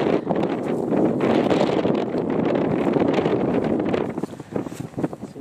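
Gusting wind buffets a microphone outdoors on a May cow pasture, a dense, steady roar that holds nearly the whole stretch and turns choppier and more uneven near the end, with no voices.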